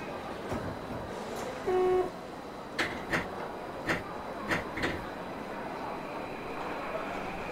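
Doors close on a Tokyu 2020 series train in the BVE5 train simulator: a short chime tone, then a run of distinct clunks and knocks spaced about a second apart over a quiet, steady hum.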